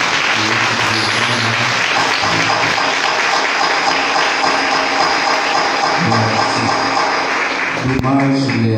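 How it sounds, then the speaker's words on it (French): A congregation applauds warmly at a Pentecostal church service in Jimani, a dense wash of clapping that fills the room steadily, with a voice and some tonal sound emerging near the end. "nous allons faire un applaudissement bien chaud"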